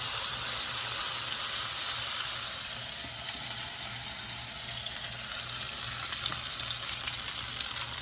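Salmon and vegetable fritter batter (okoy) frying in hot oil gives a steady, loud sizzle that eases slightly after a couple of seconds and carries on unbroken, with no talking.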